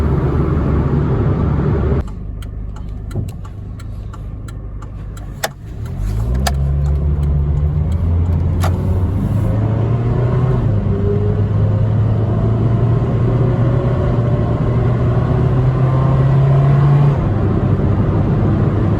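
A low-mileage 1995 Saturn SL2 accelerates, its engine drone climbing steadily in pitch and growing louder after a brief dip, with a continuous rumble and no talking.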